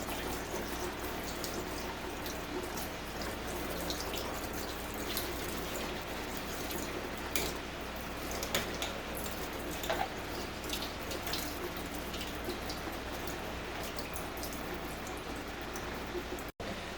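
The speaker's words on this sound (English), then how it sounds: "I like to use the filtered water to rinse them." Filtered water running through a strainer of organic green lentils as they are rinsed, a steady close splashing wash with faint drips, continuous and alone.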